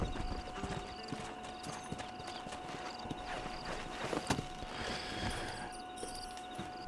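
Horse hooves clip-clop at a steady walking rhythm in the video game Red Dead Redemption, fairly quiet under a faint ambient bed, with a few sharper hoof knocks near the end.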